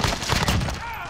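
Dense, booming gunfire from the video game Warzone Rebirth rattles in a quick burst of shots, loud and close, with a voice briefly audible underneath.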